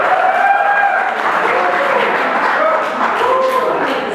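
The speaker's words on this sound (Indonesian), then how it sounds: "beri tepuk tangan untuk pasangan nomor 3." An audience at a student candidate debate for governor and vice governor breaks into steady, loud applause for a candidate pair, with voices and a whistle-like tone mixed in over the clapping.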